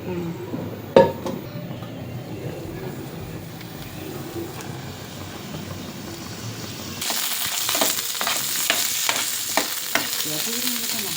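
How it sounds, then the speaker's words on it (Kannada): Green chillies fry in oil in a home kitchen, a soft sizzle at first and then a louder, crackling hiss with repeated scraping and clinking of a spoon in the pan. "ಸ್ವಲ್ಪ ಮೆಣಸಿನ್ಕಾಯಿ ಫ್ರೈ ಮಾಡ್ಕೋಬೇಕು ಎಣ್ಣೆ ಹಾಕಿ"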